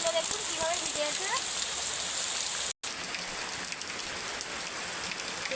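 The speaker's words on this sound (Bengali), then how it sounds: "মানে এত ভারী বৃষ্টি হচ্ছে কি বলবো আপনাদের" Heavy rain pours down beside a home kitchen, a dense, loud, steady hiss of splashing water with faint chirps in the first seconds and a brief dropout midway.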